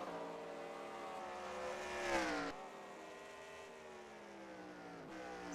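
A high-revving race car engine in a racing video game at the Symmons Plains circuit climbs in pitch, drops sharply at a gear change, then climbs again in a steady whine.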